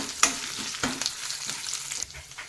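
Curry leaves, urad dal and chana dal fry in hot oil with a continuous bright sizzle, close by, broken by occasional stirring scrapes, with no voices.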